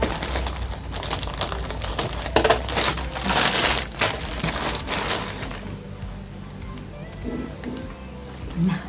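A blade slices open a package with scraping, crinkling plastic and cardboard sounds, loud bursts in the first half that then settle into quieter handling noises.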